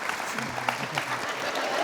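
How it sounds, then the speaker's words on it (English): Audience applause at a live conversation event with the members of a band, fairly quiet and brief, with voices talking over it throughout. "A round of applause."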